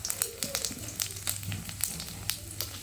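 Bay leaf, two dried red chillies and panch phoron frying in hot mustard oil, a close continuous sizzle with crackling pops and spits throughout.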